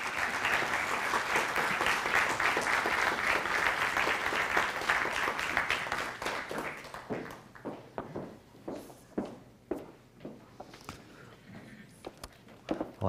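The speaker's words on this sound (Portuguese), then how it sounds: "Peço por isso uma salva de palmas para ambos" Audience applause at a tribute event, a full sustained round of clapping for several seconds that thins out into a few scattered claps and footsteps near the end.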